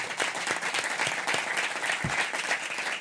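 An audience claps steadily and densely for about three seconds, a full, even burst of applause with no voices standing out above it.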